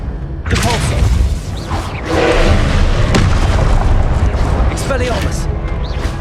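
A Compulso spell cast in Hogwarts Legacy lands as a heavy magical boom with a resonant impact, followed by rumbling effects and a voice speaking over the din of combat.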